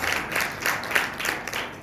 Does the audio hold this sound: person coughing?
no